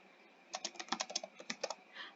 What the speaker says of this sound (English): So I'm going to type in fresh from the oven.